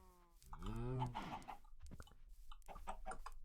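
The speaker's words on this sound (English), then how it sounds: "try to lure a couple chickens back with us" Chickens clucking in Minecraft, a series of short clucks close by over faint background noise.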